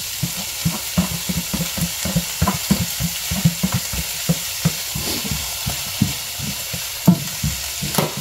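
Bottle gourd (upo) being stir-fried in a pan: a steady sizzle broken by repeated rhythmic scrapes and clanks of a utensil stirring, with no talk.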